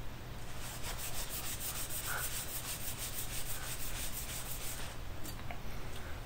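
A Japanese sanmai steel knife is polished with AutoSol abrasive polish, giving a steady, close hissing rub that runs unbroken with no voices.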